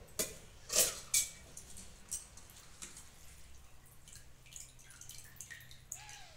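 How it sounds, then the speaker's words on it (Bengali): Soaked rice strained into a mixing jar, with a few sharp close drips and splashes early on, then quieter scattered trickles of water, no one speaking. "এখানে আমি একটা মিক্সিং জার নিয়েছি, এতে আমি চালগুলো ছেঁকে দিয়ে দেবো।"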